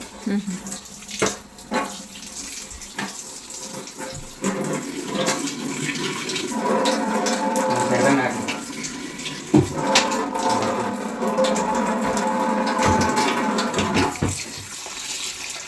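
Water runs through a newly installed home water filter, a splashing, gushing flow like a tap or flushing tank, rising and falling with occasional clunks and brief surges; voices seem to talk faintly over it at times.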